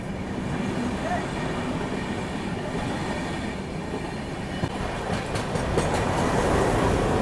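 The Brahmaputra Mail train runs through Patna Rajendra Nagar station without stopping, a continuous rumble of wheels and carriages heard from on board, with some rattling and clatter building toward the end.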